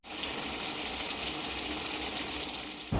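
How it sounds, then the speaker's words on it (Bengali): Tea cups washed under a running kitchen tap: a loud, steady gush of water close by, with a brief clatter at the very end. "আর এদিকে চা খেয়ে চায়ের কাপগুলো এখনও ধোয়া হয়নি,"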